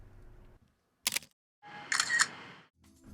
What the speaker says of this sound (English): An Apple sound designer recorded the sound of the shutter